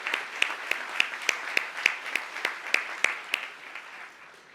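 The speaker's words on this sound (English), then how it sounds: "Go ahead, clap for them." Audience at a high school graduation ceremony claps sparsely, with distinct sharp claps standing out over a soft bed of applause that slowly fades.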